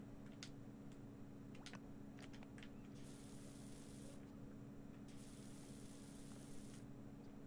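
Pressure washer in the game PowerWash Simulator sprays in a steady hiss, with a couple of brighter bursts of spray cutting in and out over a constant low hum, a few small ticks earlier on.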